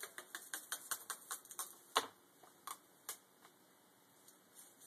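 Vinyl tape peeled back up from a surface, a quiet run of sharp ticking crackles in quick, irregular succession with one louder snap, no voices.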